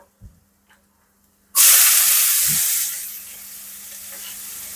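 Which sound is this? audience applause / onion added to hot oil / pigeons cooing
onion added to hot oil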